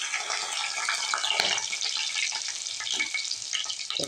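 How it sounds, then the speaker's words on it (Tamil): Crushed garlic, onion, green chilli, tomato and curry leaves tempering in hot oil for a kuzhambu, a bright, dense hiss of frying with a few soft stirring sounds, no talking. "தேவையான வெங்காயம், பூண்டு தட்டி வச்சுருக்கேன், பச்சை மிளகா, தக்காளி, கருவேப்பிலை போட்டு நம்ம குழம்பு தாளிச்சிக்கலாம்."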